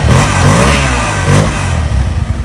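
A Yamaha Versa motorcycle engine running after an electric start, revving up loudly close by with two rising surges of throttle before settling back, no talking.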